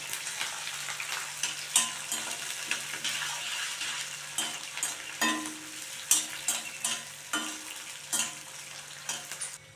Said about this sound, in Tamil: 1 ஸ்பூன் கடுகு சேர்த்துக்கிறேன். 1 ஸ்பூன் உளுந்தம்பருப்பு, வெட்டி வச்சுருக்க பச்சை மிளகாயை சேர்த்துக்கிறேன்.